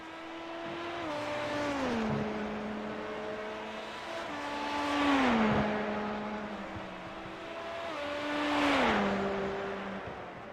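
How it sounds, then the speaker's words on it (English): Race cars lap Le Mans in iRacing: a high-pitched engine whines steadily, with repeated downshifts and climbs in pitch as cars brake and accelerate through the Porsche curves, and faint passing swells from other cars. "Eric Kulliga having a very nice, tidy race this evening, coming around the Porsche curves."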